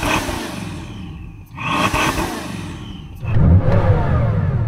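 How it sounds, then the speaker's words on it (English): A Bugatti Chiron Super Sport engine revved while stationary, loud close roaring bursts that climb and fall, with a brief lull and then a second heavy surge of revving. "So I am going to rev up this engine."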